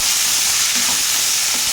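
Chana dal sizzles in hot oil with onions and curry leaves, a steady close frying hiss with soft stirring scrapes and no talking.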